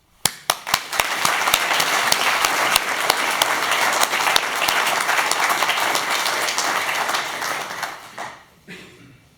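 Applause at a farewell ceremony for a grandfather who was an artist, opening with a few sharp separate claps and swelling into sustained, dense clapping from a gathered crowd that fades out near the end.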